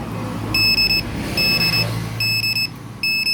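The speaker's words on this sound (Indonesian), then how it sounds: "ditahan sampai ada notifikasi suara tilulit lalu lepas" A Yamaha WR155 motorcycle smart key alarm chirps in four quick bursts of high, rapid beeping, separated by short pauses over a low background hum.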